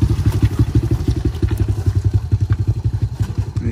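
A motorcycle chugs along a slippery mountain road at low speed, its engine thumping in a steady, loud, close pulsing rhythm with no talk over it.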